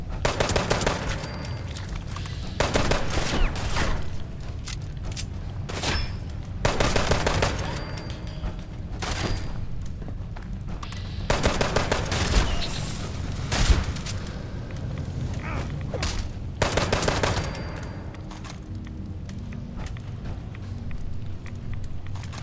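Shotgun fire in Fallout 76, repeated loud blasts arriving in clustered bursts every few seconds over a steady low game background, with brief pauses between volleys.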